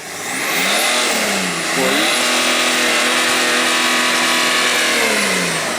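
A chip-tuned 230 hp BMW 525 tds revs up hard accelerating toward 100 km/h, pitch climbing steeply, drops briefly at a gear change, then climbs again and holds a loud, strained roar.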